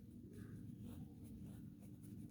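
Pen strokes scratch softly across paper in short repeated bursts, faint and close against a low steady background hum.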